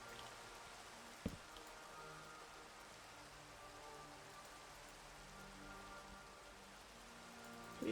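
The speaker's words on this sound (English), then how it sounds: "Please, sir, I'd like to get rid of the rain, sir." Steady, soft rainfall in the Minecraft video game forms a faint, even hiss throughout, broken only by one brief tap early on.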